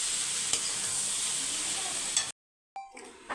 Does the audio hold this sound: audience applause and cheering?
no